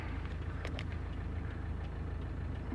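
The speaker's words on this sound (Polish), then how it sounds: "O, jaki amerykański samochód." An American car engine idling nearby with a low, steady rumble and faint rhythmic chugging, fairly quiet and unbroken throughout.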